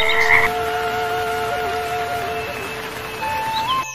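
A cartoon frog croaks in a rainy forest scene, giving sustained tonal calls that waver and bend in pitch over a low background hum.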